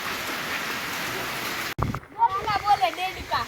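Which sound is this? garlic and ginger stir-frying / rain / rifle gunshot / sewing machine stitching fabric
rain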